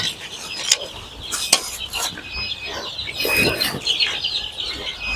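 A brooding pen holding about 350 young tiger-breed chicks gives off busy overlapping peeps and clucks, with several louder calls rising out of the steady flock chatter.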